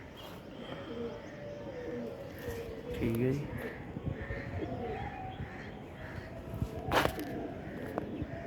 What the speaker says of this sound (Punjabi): ਕਬੂਤਰ ਨੂੰ ਪਛਾਣ ਲਿਓ ਪਿਛਲੇ ਐਤਵਾਰ ਵੀ ਉੱਡਿਆ ਜੀ